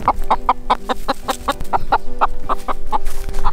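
Chickens clucking in a rhythmic run of short, close, fairly loud calls on a farm field during tamarind picking, with no talk over them.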